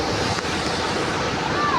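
Large waterfall with a great volume of rushing water near the Lindt chocolate factory in Switzerland, a loud steady broadband roar filling the whole clip with wind buffeting the microphone.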